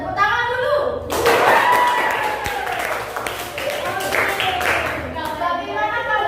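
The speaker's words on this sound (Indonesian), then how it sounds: "Tepuk tangan dulu." A class of schoolchildren clapping their hands together in a classroom, a dense burst of claps for several seconds, fairly close, with a voice and teacher talking around it.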